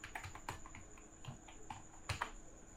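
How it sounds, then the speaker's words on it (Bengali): Keys clacking on a computer keyboard as a captcha is typed into an online land-tax payment form, a quick irregular run of close, crisp taps with a couple of louder strikes near the end. "এরপর নিচেই যে ক্যাপচা আছে সেই ক্যাপচাটা টাইপ করতে হবে।"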